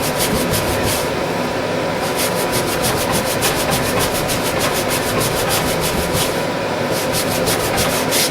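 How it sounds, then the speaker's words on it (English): Steady, rough rubbing as a shirt's grease stain is scrubbed by hand with Fast Orange hand cleaner, a continuous close scratchy friction with faint rhythmic strokes throughout, no talking. "A little scrubbing involved."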